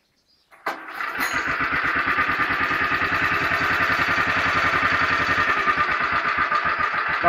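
A Motor Sich walk-behind tractor engine cranks and catches after a short silence, then settles into a loud, steady chugging idle that runs to the end.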